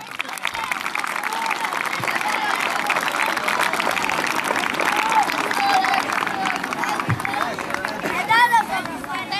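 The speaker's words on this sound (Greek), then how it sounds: "Ένα πολύ δυνατό χειροκρότημα." Loud, steady applause from a crowd at the closing ceremony of the Loutraki Easter Soccer Cup youth football tournament, with chatter and shouts mixed into the dense clapping throughout.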